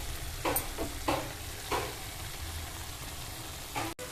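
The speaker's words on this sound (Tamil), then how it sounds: "எல்லாத்தையும் ஒன்றா போட்டு வதக்கணும்." Tomatoes and ground pepper sautéing together in a pan for chicken gravy: a soft continuous sizzle broken by several distinct spatula scrapes, close and moderately quiet, with no voices.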